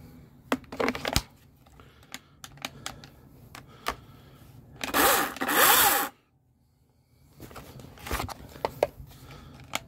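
Hands removing the chain from a Dnipro-M DCS-200BC cordless chainsaw: a run of sharp clicks and metallic knocks scattered through the clip, with one louder stretch of rattling scraping in the middle, all close up and without talk.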